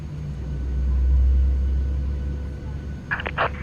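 Boeing 737NG engine spooling up in a flight simulator with a sound pack, a deep continuous low rumble swelling and easing, with brief clicks near the end.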